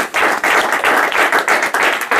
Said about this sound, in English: I would like us to give a round of applause to the people from INT.